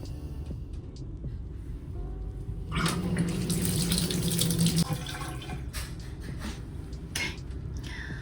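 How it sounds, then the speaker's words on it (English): A tap runs while an imported plant is rinsed under the water, a soft splashing stream that swells for a couple of seconds and then eases, with faint handling clatter around it. "So I rinsed it off as much as I could."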